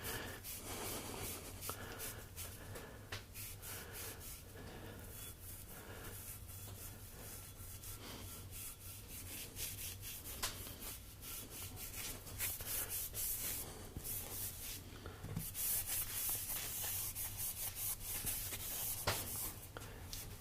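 A spindle part being scrubbed by hand with a Scotch-Brite pad during a bearing replacement, a continuous close, quiet rubbing and scraping with rhythmic strokes and occasional knocks.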